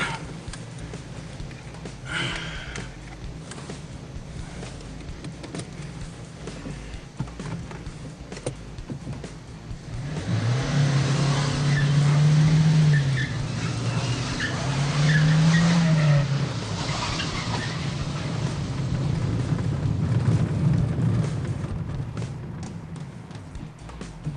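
A car carrying an extra 150 kg of load drives and skids, its tires squealing in sustained, loud wavering whines over the steady rumble of the engine.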